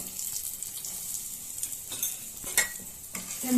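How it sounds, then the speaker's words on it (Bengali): Asafoetida and turmeric dropped into hot oil give a soft, steady sizzle, with a few sharp scrapes and clinks of a spoon in the pan, fairly quiet and without voices. "তেল গরম হয়ে গেছে এবার আমি সামান্য পরিমাণে হিং দেবো"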